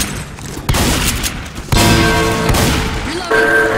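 Gunfire in the video game Left 4 Dead 2, several loud bursts of shots in quick succession with sharp onsets and ringing decays, mixed with faint voices and game noise.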